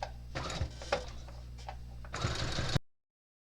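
A home sewing machine zigzag-stitching around the fabric edges of sewn slippers, whirring steadily with rhythmic mechanical ticking, close and alone, stopping abruptly near the end.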